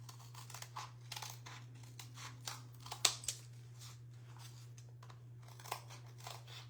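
Scissors trim a paper snowman hat template for a vintage-style snowman craft, giving a run of close, crisp snips and paper crinkles over a steady low electrical hum, with no talking.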